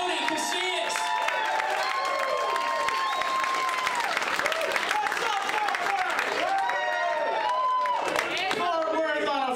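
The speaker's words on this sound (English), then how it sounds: "Start clapping for Tony Casillas." A comedy club audience clapping and cheering as comedian Tony Casillas takes the stage, loud continuous applause with whoops, voices and whistles mixed throughout.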